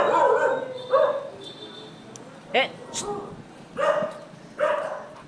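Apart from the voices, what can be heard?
dog barking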